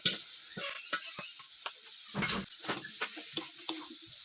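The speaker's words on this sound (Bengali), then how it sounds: "এখন সেদ্ধ করা এঁচড়গুলো এর মধ্যে দিতে হবে এবং পুরোটা ভালোভাবে মিশিয়ে" Boiled jackfruit is stirred into fried spice paste in a pan, with a spoon scraping and clicking in a regular rhythm over a soft, quiet sizzle.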